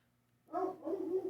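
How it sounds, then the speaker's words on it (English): A dog barks indoors with two short, close, fairly loud barks following a second of near silence, with no talk over them. "Sorry, my dog."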